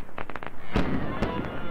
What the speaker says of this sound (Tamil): பட்டாசு போட்டால் இன்னும் ஸ்பீடாக போகிறானுங்க.